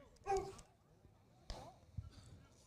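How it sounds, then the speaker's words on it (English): Dog barks at a South Carolina high school baseball game, two or three short, fairly faint yips spaced a second apart over quiet ballpark background. "That dog sounded as real as it could possibly get."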